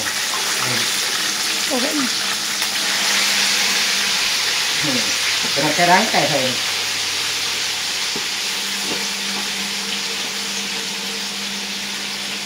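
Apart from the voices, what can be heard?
frying food in a pan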